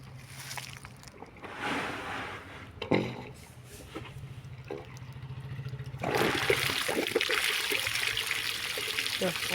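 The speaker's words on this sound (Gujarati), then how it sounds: "અમારે છે ને નાની મોટર છે એટલે પાણી થોડું આવે" Water from a small pump motor on a coriander farm runs in a modest, steady trickle under a low hum, swelling into a louder, fuller rush midway, with a voice heard briefly.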